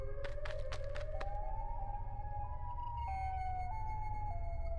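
A loud siren wails continuously, its tone sliding up and then stepping between pitches over a low rumble, with a few sharp clicks early on.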